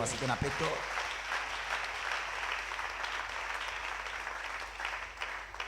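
A church congregation at a women's celebration service applauding, steady sustained clapping from a large room, with a voice over it at the start.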